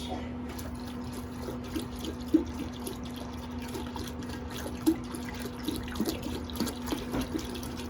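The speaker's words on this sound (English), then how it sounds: "Now we're going to be adding some milk to it." Cold milk pours into a light-colored roux of flour and butter for potato leek soup, making a soft, steady trickling splash with occasional small plops, fairly faint and continuous.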